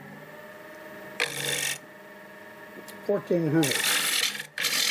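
A wood turning lathe, a 1221 model, shapes wild cherry at 1,400 RPM: a steady motor hum runs throughout, broken by two loud, rasping bursts of cutting, with a short stretch of speech between them.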